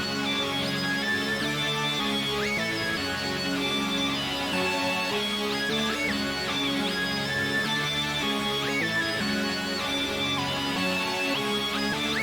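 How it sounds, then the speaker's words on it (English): A synth lead played through a distorted, chorused Guitar Rig amp preset sounds a dense, buzzing melody over a full beat. The mix is continuous and steady in level, with no voices. "So now the lead with the guitar amp sounds something like this."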